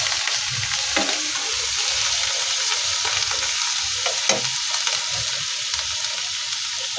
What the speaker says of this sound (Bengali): এবং এর সাথে আমি মাছটা একটু কষাই নিচ্ছি মশলার সাথে।